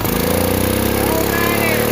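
A Case XC210 riding lawn mower, revived after sitting for over 15 years, runs at full throttle held back by its governor, a loud, close, steady engine drone with a fast, even firing pulse.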